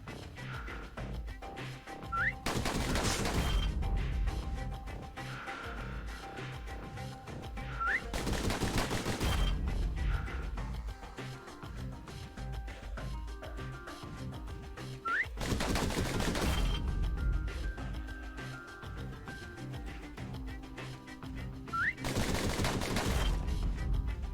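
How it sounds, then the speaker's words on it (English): Pistol gunfire in the video game Bastion comes in loud, dense bursts of rapid shots, four separate volleys spread over a looping game soundtrack with whistling tones and chimes between them. "pistols could spit out rounds just as quick as you could pull the trigger"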